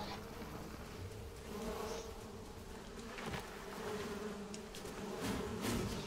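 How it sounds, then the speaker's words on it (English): A continuous, close buzzing of wasps attacking in a video game (Fortnite) drones steadily for several seconds, the swarm's hum rising and falling slightly, with no voices. "Oh, you're getting attacked by wasp."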